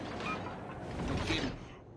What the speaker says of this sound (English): Come on, turrets, turn.